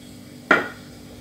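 A single clattering knock of a metal frying pan set down on a stovetop, sharp at first then ringing briefly away, with no other sound around it.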